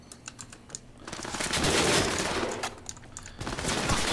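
Gunfire in Cyberpunk 2077 crackles as a dense, muffled fusillade that swells and fades, mixed with clicky keyboard tapping up close and no speech.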